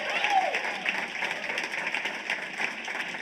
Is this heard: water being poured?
no